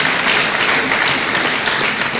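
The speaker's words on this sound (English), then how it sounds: "Please, let's give him a round of applause." An audience at an inaugural lecture series event claps in dense, steady applause, loud and continuous throughout with no voices standing out.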